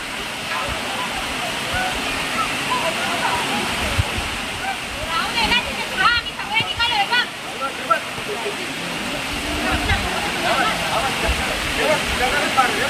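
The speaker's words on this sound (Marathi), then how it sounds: "हे पहा, हा मागे सुद्धा धबधबा आहे, तिथून पाणी येते." Continuous roar of a waterfall flowing behind a rocky bathing spot at Dhoot Papeshwar, Rajapur, loud and constant throughout, with brief bursts of nearby voices partway through.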